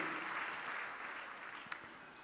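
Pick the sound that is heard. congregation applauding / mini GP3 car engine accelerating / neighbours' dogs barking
congregation applauding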